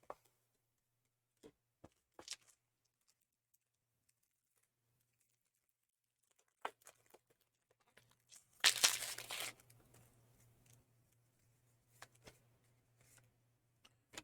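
A Magic: The Gathering Dominaria United set booster pack tears open in one short, crisp crinkling rip midway through, set among sparse quiet clicks and card handling.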